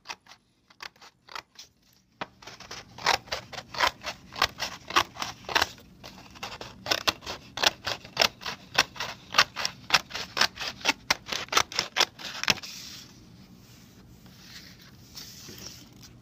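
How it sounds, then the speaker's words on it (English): Scissors snipping through a stiff paper plate along a curved edge, a long steady run of sharp close crunchy cuts at a brisk rhythm, no talking, easing into quiet handling near the end. "So you have to cut through the edge to the circle and then cut around."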